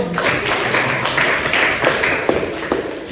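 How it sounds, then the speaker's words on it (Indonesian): Classroom participants applaud a student, a steady patter of hand claps and taps lasting a few seconds, fairly close and alone without talk. "Tepuk tangan untuk Madu"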